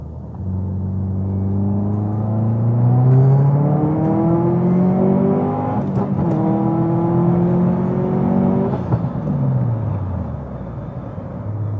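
Tuned Subaru STI accelerating hard up a freeway on-ramp, its engine note rising steadily through the gears with brief dips at the shifts, loud and close from inside the car, with no talking.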